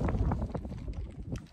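Strong wind gusts buffet the microphone outdoors in Greece, a continuous low rumbling roar that surges and dips across the whole stretch, fairly loud with no voices.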